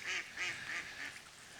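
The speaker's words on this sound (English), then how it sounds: "Even the ducks laugh." Ducks quack by a river in four quick nasal calls, moderately close and fairly quiet, fading at the end.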